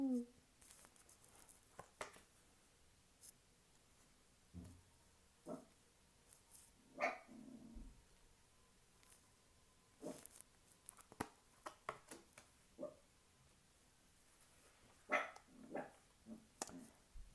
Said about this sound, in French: on risque de l'entendre japper un petit peu